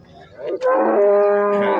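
A cow or calf at the Kungrad livestock market gives a single loud, drawn-out moo close by, lasting just over a second after a brief rustle.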